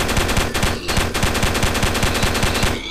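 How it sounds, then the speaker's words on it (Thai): A machine gun fires in Minecraft, a rapid, loud, evenly spaced burst of shots rattling on nearly continuously. "อันนี้ก็จะเป็นปืนกลนะครับจะรัวสุดนะ"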